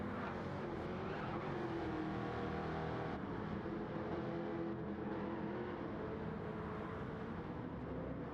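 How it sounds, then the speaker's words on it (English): GTO race cars slide around the turns at Goodwood, their engines making a loud, continuous roar with no break and no voices. "Look at these cars sliding around all these turns"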